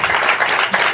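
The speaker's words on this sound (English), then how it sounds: "a nice round of applause for your host" An audience applauds the host of a live comedy show in a short, dense burst of clapping that stays steady and fairly loud for under a second.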